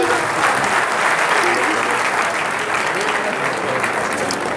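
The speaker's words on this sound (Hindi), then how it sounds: "जोरदार ताली होनी चाहिए।" Loud, sustained applause from a crowd at a ceremony in Darbhanga where names are called to the stage, dense clapping continuing evenly throughout with no break.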